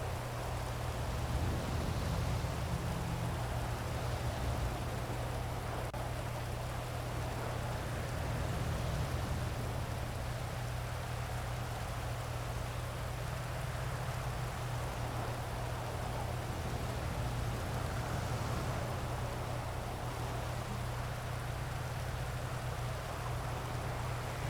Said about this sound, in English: Rain is so loud, I love it.